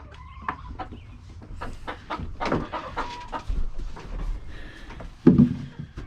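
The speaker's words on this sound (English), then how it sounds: "So here's the chickens." Farmyard chickens cluck and squawk close by, with scattered bursts of fowl calls and rustling movement over a few seconds, ending in a louder flurry.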